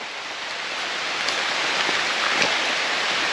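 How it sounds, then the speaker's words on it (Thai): Steady rain falls in a dense, even hiss during a motorcycle trip on the way to Khlong Krok waterfall, with a few louder drops near the end and no talk. "ฝนตกแล้วครับ"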